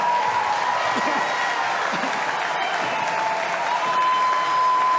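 A large crowd at a right-wing political rally gives a standing ovation, with loud, dense applause that goes on without a break. Faint voices run underneath the clapping.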